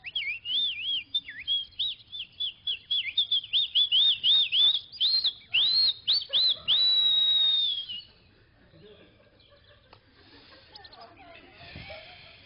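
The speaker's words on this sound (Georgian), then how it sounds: "ჩიტები ჭიკჭიკეზე." Birds chirp and whistle in quick repeated rising calls, loud and near, for several seconds before the sound drops to quiet background noise.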